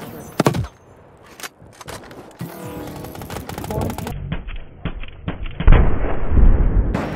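Gunfire in an online shooter game plays in quick bursts, including a sniper rifle, with sharp cracks and rattling volleys that are loud and close over a busy, shifting game soundscape, and a faint voice underneath.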